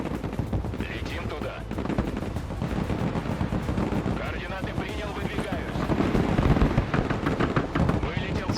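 Sustained heavy .50 cal machine gun fire in the Broken Arrow video game, dense rapid bursts crackling continuously amid explosions and battle noise, with a voice talking over it throughout.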